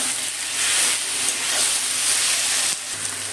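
Ginger-garlic paste and spices sizzle steadily in a hot pan while cooking chicken biryani masala, a close, continuous hiss and crackle with no pause, briefly dipping near the end before resuming.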